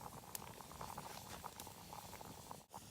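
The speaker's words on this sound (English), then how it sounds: "We've got a good simmer now back." Tomato-based sauce simmers in a pot over an open cooking fire in a forest, a steady close bubbling patter with small pops, no talking.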